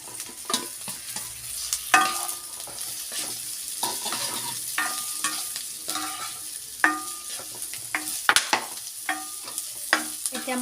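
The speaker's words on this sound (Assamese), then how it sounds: "এতিয়া মই ইয়াত ফুলকবি আৰু আলু দি দিম।" Cauliflower and potato fry in a pan while a utensil stirs them, giving repeated scraping clatters over a soft, steady sizzle, close and clear with no talking.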